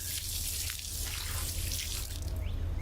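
A dog named Ralph urinating outdoors, a steady faint trickle of liquid running continuously under low background rumble, with no talking.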